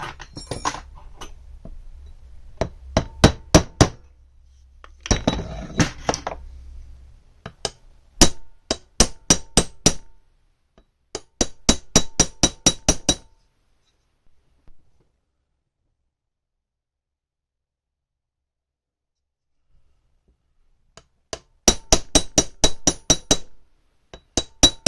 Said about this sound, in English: Use 2 hammers.